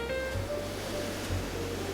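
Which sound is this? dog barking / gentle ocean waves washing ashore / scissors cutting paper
gentle ocean waves washing ashore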